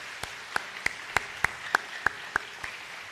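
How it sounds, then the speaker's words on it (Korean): Slow, evenly spaced claps from a Korean church congregation at an evening service, about ten distinct hand claps in a steady rhythm, fairly close and clear with no talk over them. "우리 여전도회 분들 위해 다시 한번 격려의 박수 한번 하겠습니다"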